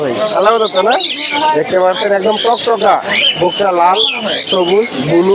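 Lory parrots at a crowded bird market in Mirpur-1, Dhaka, giving loud, continuous shrill squawks and chattering calls close by, overlapping with one another throughout.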